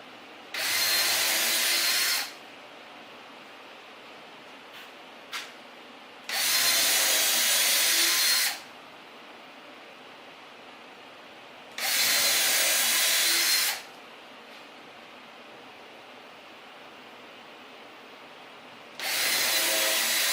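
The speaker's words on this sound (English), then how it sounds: "Now I just gotta drill the holes." An electric drill bores holes in a workbench in four loud bursts of about two seconds each, separated by quiet pauses.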